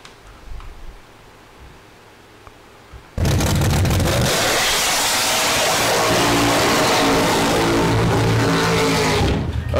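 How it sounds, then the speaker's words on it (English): A nitrous-equipped Corvette with flames and big tires revs hard and loud, a sustained roaring engine wall that bursts in suddenly after a few seconds of quiet background noise and holds to the end. "Nitrous car."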